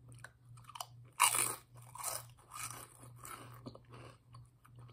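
Close, loud crunching and chewing of Cheesy Garlic Bread Lays potato chips, with a sharp bite near the start followed by several softer munching crunches over a low steady hum.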